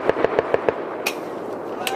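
Rapid gunfire during a military defensive operations exercise, five sharp shots in a quick regular run, followed by a couple of scattered bangs over steady outdoor background noise.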